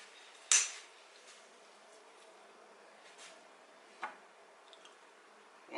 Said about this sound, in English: Now you want to scrape it into the bowls evenly